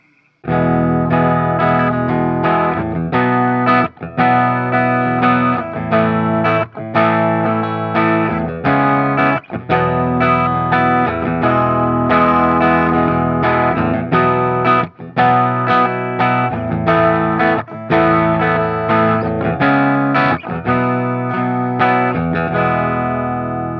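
A loud, distorted electric guitar, a 1959 Gibson Les Paul Junior with volume and tone at full, plays sustained chords and riffs continuously, full and bright with heavy overdrive.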